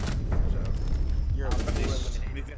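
Bursts of BAR rifle gunfire in a tactical shooter game, rapid cracks loud and close, with voices talking over the shots.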